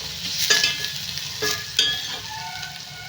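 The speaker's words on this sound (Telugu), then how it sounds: "ఉల్లిపాయలు అయితే ఫ్రై అయిపోతున్నాయి ఇంకా కొంచెం ఫ్రై అవ్వాలి" Onions frying in a pan, a steady sizzle with scraping stirring strokes and a few sharper clinks against the pan, close up with no talk.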